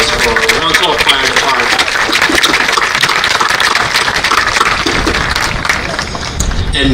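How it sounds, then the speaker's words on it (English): A graduation ceremony audience applauds the Wantagh Fire Department, a dense, continuous wash of clapping from a large crowd in a hall, loud and sustained for several seconds before easing slightly. "Join me in a round of applause for the Wantagh Fire"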